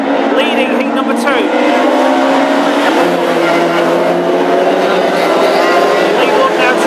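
Classic hot rod race cars at Hednesford Raceway during a heat, engines roaring steadily and continuously at close range, with a race commentator talking over the noise throughout.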